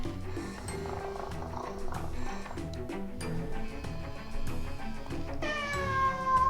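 A Little Live Pets Cuddles electronic toy cat gives a synthetic, tonal meow over steady background music, the call rising clearly near the end.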